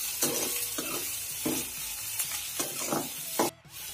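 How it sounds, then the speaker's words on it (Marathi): Chopped onion stirred and sautéed in very hot oil for a dried bombil chutney, a steady sizzle broken by rhythmic scraping strokes of a spoon across the pan, close and fairly loud. "आता कांदा गुलाबी रंगापर्यंत येईपर्यंत चांगला छानसा परतत राहायचा आहे।"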